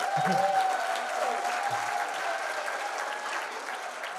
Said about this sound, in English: give her a round of applause, guys, please